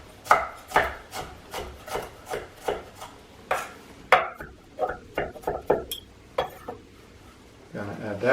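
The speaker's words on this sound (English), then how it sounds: "I'm going to cut up our onion, just a little bit of onion" An onion being cut up on a cutting board, a rapid run of sharp knife knocks about twice a second, close and clear, pausing briefly near the end before a sizzling scrape.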